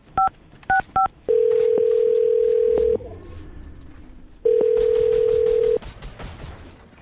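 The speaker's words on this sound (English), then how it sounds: "I'm going to dial this phone up right now" A telephone handset dials three quick touch-tone beeps, then gives two long ringback tones separated by a quiet gap, close and clear with no talking.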